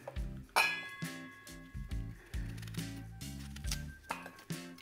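A knife works through a peeled Granny Smith apple, coring and slicing it, giving a series of soft cuts and light clinks against a board, close and quiet with no talk.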